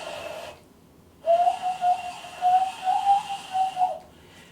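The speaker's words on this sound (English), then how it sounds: "Whistling with his hands." A man whistles through cupped hands, making a clear, warbling tone that rises and falls in several pulses for about three seconds after a brief quiet pause, close and fairly loud.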